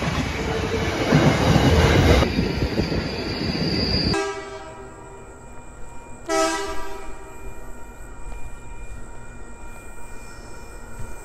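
An NSW passenger train arrives at Wondabyne Station in Australia: loud rolling rumble and wheel noise, then squealing brakes and a short horn blast as it slows and stops nearby, with no talk.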